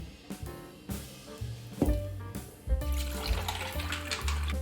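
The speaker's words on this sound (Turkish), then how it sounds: "Daha önceden hazırlamış olduğum buzumun içerisine de soğuk su ilave ediyorum." Cold water pours from a tap into a bowl of ice for homemade butter, splashing in several bursts that grow into a steady flow near the end; no one talks.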